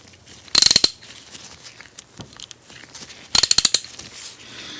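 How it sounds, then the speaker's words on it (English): A vintage G&G Wright 3800-B 3/8-inch drive ratchet gives two short bursts of sharp, close metallic clicking, a few seconds apart, with quiet handling noises between them. "There's a 3/8 inch ratchet. Here's the switch."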